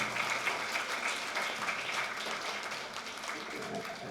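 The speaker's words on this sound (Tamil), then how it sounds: "ஸோ இந்த பெர்ஃபார்மன்ஸ் பண்ணக்காக எல்லாருமா சேர்ந்து ஒரு தடவை கரகோஷம் கொடுக்கலாமா" Senior citizens' meetup audience in a Chennai park clapping for a performance, a steady broad wash of hand claps with faint voices mixed in, holding fairly even throughout.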